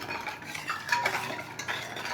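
A sweet New Year batter for paniyaram being stirred in a bowl, with a steady scraping and clinking of a utensil against the bowl's sides and a few louder knocks, close and alone without talk.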